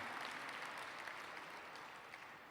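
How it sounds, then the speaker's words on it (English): Applause from the audience at a New York gala fills the room with a dense, even patter of many hands, steady and moderately distant throughout. "So let's give them another round of applause."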